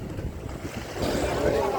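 Waves wash and churn near a fishing boat reversing to shore at Vizhinjam, with wind buffeting the microphone and a voice talking over the rushing water.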